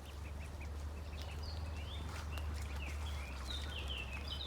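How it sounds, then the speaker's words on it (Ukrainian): Ducks quacking in short bursts while being fed, over a steady low hum, several birds calling close by in an outdoor setting. "Давайте качечки їжте."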